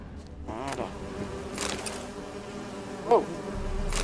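Bees buzzing in The Witcher 3 on the island of Fyke, a steady insect drone running through the whole stretch with a brief louder tick near the end, no talking over it.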